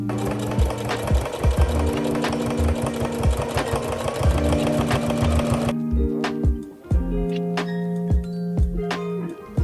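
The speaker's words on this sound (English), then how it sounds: "And then we go back to the machine, more sewing, and we sew all the seam allowances down for the boning panels." A sewing machine stitching seam allowances down on a corset dress, a loud continuous rhythmic chatter for several seconds, then stopping to quieter mechanical clicks and a brief restart.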